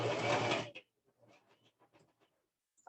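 A Fiskars sewing machine runs a short test stitch with yellow thread, a loud steady motor whir for under a second, then stopping, followed by faint rustling and handling.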